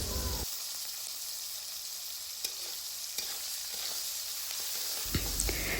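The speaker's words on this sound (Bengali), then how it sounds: "ভাজা হয়ে আসলে এর মধ্যে দিয়ে দিচ্ছি কেটে রাখা পেঁয়াজ ও মরিচ।" Chopped onions and chillies tossed into hot oil in a pan with dried chillies for a banana-stem fry, giving a steady close sizzle with a few sharp crackles and stirring clinks.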